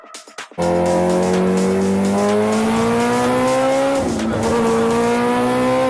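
A car engine roars close by, its pitch climbing steadily as it accelerates, loud and continuous after a brief start.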